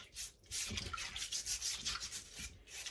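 Home-grown parsnips are scrubbed clean by hand, giving repeated rough rubbing strokes, close and fairly loud, in uneven bursts with no talk.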